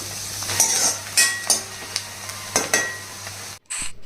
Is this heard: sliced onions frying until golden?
yes